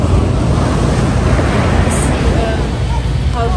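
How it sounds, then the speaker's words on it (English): Sea surf rolls on a beach beside a hotel on the Fujairah coast, a steady broadband wash with wind buffeting the microphone and no talk. "we have a sea right there"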